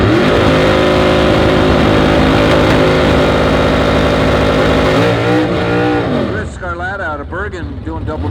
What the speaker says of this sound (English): Tanaka coming up on the tower side here in the very cherry Camaro